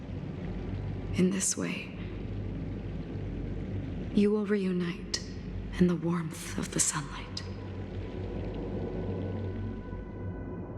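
Rain falls steadily in Honkai Star Rail, a constant hiss and low rumble underneath a voice that speaks in several short bursts, the rain carrying on alone afterwards.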